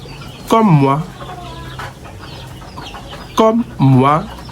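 Goliath chickens clucking at a poultry farm, a few short harmonic calls in two bursts over steady low background hum, close and fairly loud.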